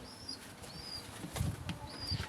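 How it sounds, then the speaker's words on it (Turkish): Birds being tossed feed outdoors flap their wings in short bursts, a few quick flutters close by with faint chirps in the background and no talk. "Rahat bırak kuşları."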